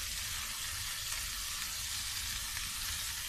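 Garlic and ginger sauté in a hot pan with red chilli flakes and chaat masala, giving a steady, close hiss of sizzling oil that holds even throughout with no talk.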